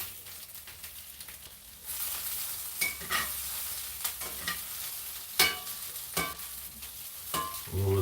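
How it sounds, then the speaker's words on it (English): Onions fry in a pan, a soft steady sizzle broken by several sharp clatters and scrapes of a utensil stirring. The clip is fairly quiet overall and close up, with no talking. "Ooh, those onions are nicely cooked."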